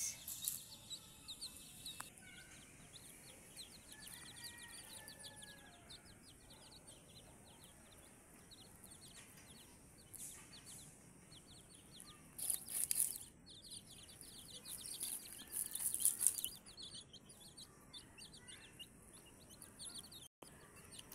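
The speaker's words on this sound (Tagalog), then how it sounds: "The mother hen is searching food for her chicks." A Holoano mother hen forages for termites and ants with her nine chicks, giving soft clucks while thin chick peeps come and go. The birds are faint and distant against a quiet outdoor background.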